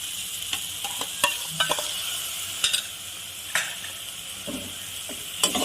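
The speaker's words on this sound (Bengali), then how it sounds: "সর্ষে দিয়ে ভালো করে মিশিয়ে দিয়ে আমি বেশিক্ষণ কষাবো না" Mustard paste being stirred into a spice mix frying in a pan for a potato and fish curry, with a steady sizzle under repeated scraping strokes of a spoon, close and fairly loud.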